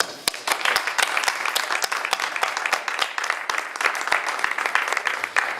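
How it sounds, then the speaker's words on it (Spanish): Sustained audience applause after a literary talk, dense loud clapping from a crowd that continues steadily throughout. "Primero un aplauso."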